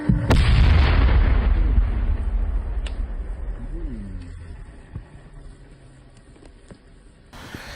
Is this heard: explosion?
yes